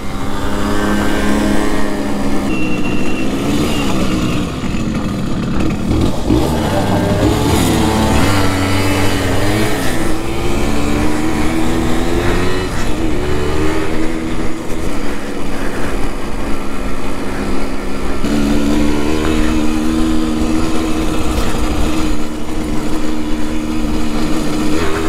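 A Simson S51 moped rides along a road, its small engine buzzing loudly and close as it revs up and down through gear changes, with steady wind noise and no talk.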